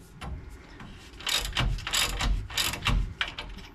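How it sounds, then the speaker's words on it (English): A hand ratchet wrench tightens bolts during an EZ Inch block install, giving a few quick close ratcheting clicks in short bursts. "We'll go ahead and use a hand wrench for now. Give it about 3 ratchets there"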